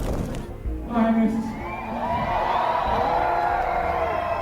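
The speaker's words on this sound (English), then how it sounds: "they even let the crowd do the infamous chant again" Concert crowd at a show chanting and shouting together, a loud sustained mass of voices with rising and falling pitch.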